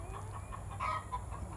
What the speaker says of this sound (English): And then last night, as every night at dark, one of us comes down here, mostly Suzanne, and closes the chickens in for the night at dark.